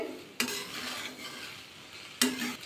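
Vegetable rice being stirred and mixed in a pan, a steady soft scraping and sizzle with two sharper clanks of the spoon against the pan, one near the start and one near the end.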